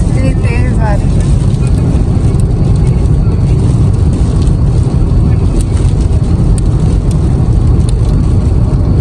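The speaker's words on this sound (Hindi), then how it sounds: "इतनी तेज बारिश है।" Heavy rain in Makkah, a dense, loud, continuous roar of downpour with wind, steady and enveloping for the whole stretch.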